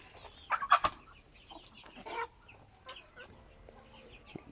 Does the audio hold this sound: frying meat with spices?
no